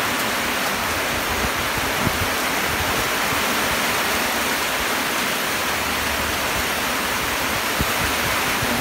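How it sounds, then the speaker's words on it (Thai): Heavy rain pours down steadily at night, a dense, loud, unbroken hiss of water with no pauses and no voices. "ฝนตกหนักมากเลยครับตอนนี้ตกหนักมากๆนะครับตอนนี้ตกหนักมาก"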